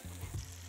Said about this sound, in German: wir lassen hier erstmal ein bisschen Speck aus